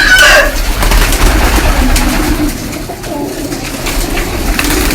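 Pair-kept pigeons coo in a low, soft burble beneath a loud, noisy background, with a brief sharper sound at the very start and the murmur continuing throughout.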